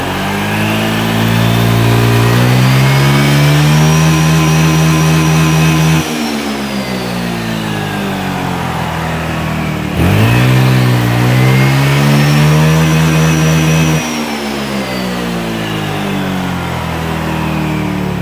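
A modified Honda Vario 150i 2017 scooter engine with an upgraded clutch revs hard twice, each rise holding at a loud, droning pitch before dropping back to idle, close up with no talking.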